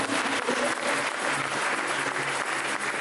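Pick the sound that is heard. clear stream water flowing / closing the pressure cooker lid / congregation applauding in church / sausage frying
congregation applauding in church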